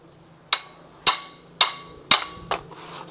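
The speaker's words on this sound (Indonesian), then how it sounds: "Tapi ini kalau seperti ini diketok ya, dipukul." Five sharp, evenly spaced hammer blows ring out on a metal part of a Honda Vario motorcycle wheel, each a bright metallic clank with a short ringing tail, close and clear with no talking.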